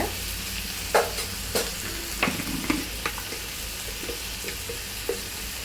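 Tomatoes sautéing in a pan for a kanava dish, a dense steady sizzle with scattered scraping stirs of a spoon, close and fairly loud throughout, no voices.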